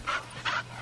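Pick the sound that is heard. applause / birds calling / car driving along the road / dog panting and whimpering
dog panting and whimpering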